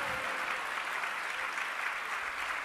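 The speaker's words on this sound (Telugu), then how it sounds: "చప్పట్లు కొట్టి దేవుని స్తుతిద్దాం." A church congregation claps together to praise God, a sustained, even roar of many hands held at a steady level for a few seconds without voices on top.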